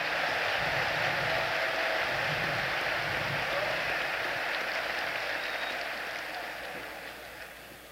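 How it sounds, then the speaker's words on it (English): Sustained crowd applause for the class of 1969 at a 2019 graduation ceremony, a dense wash of clapping that holds steady throughout and fades slightly toward the end. "how about a round of applause for the class of 1969"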